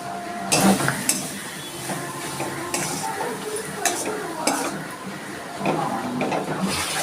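Pointed gourd frying on low heat with water, cumin, coriander and garam masala in a pan, stirred with repeated scraping and clinks of a utensil over a soft steady sizzle, close up.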